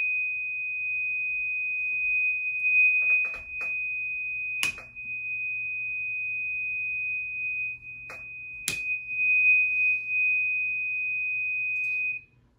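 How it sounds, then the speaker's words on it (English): A steady 2500 hertz test tone holds unbroken for about twelve seconds, a pure, clean whistle with a few faint clicks and a low hum beneath it. "2500 hertz."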